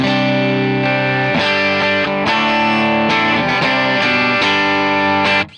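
An electric guitar run through a Tone Shepherd DR80 pedal, set up for a worship service, plays a handful of loud, ringing, effect-heavy chords in a slow sequence. The sound is saturated, then cuts off abruptly at the end.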